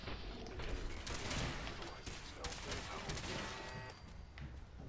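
Automated turrets in Fallout 4 let loose a dense, continuous barrage of rapid shots that stays loud throughout with little letup.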